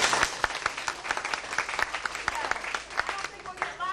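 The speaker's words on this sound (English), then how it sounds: "test applause one more time" Theater audience applause at a 1993 science museum staff follies show, a short burst of dense, fairly loud clapping from a crowd that keeps up steadily for several seconds.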